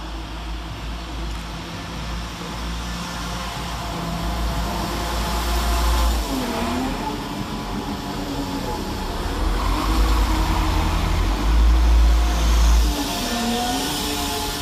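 West Midlands Railway 172343 diesel train departing Birmingham Snow Hill station, a steady low engine drone with rising and falling whining tones as it pulls away, growing louder midway.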